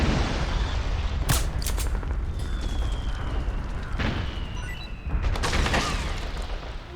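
Gunfire and booming blasts in the combat video game Metal Gear Solid 4, with a few loud bursts of shots and impacts over a dense, rumbling battlefield background.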